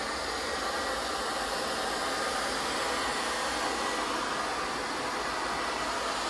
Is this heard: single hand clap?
no